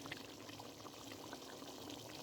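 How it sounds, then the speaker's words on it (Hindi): Water pours steadily into a cooking pot of spiced quail for a traditional Batair Sobat dish, a faint, continuous close trickle with no talk. "अब मैं इसमें थोड़ा सा ऐड करूँगी पानी।"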